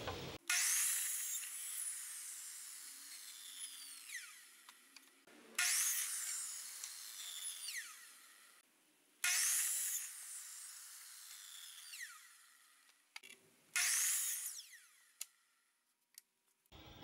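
A saw cuts lumber into end pieces for a 2-foot by 4-foot baseboard, giving four separate bursts of hissing, rasping cutting. The bursts are split by short pauses and sound fairly faint and distant.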